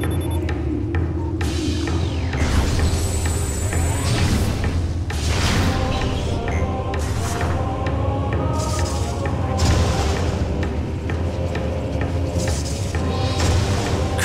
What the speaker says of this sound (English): what makes the explosions from bombs and the ones from missiles seem so distinctive